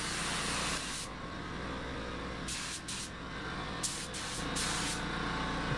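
A spray gun shoots paint in several sharp hissing bursts, some long and some short, over a steady background of air noise, close by and with no voices.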